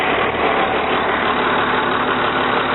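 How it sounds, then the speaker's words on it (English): TC2000 engine held at a high idle by the throttle lock, a loud, steady and close running drone with no voices. "You go ahead and pull the throttle lock, and you can hold it at a high idle."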